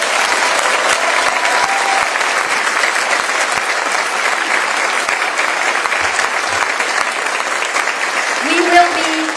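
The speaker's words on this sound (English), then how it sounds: "Could you give them a round of applause?" An audience at a university address applauds steadily in a full, dense round of clapping, with a faint voice briefly audible near the end.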